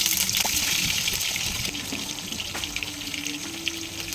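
Water pours and gushes into a cooking pot holding a batch of small onions and spices, a steady hissing rush close by that runs for about four seconds with no talking.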